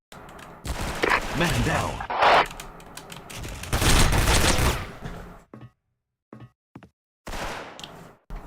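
Rapid automatic gunfire from a fast-firing gun in a video game, loud bursts over roughly the first five seconds, then short scattered shots with gaps, and a voice briefly speaking amid the shooting.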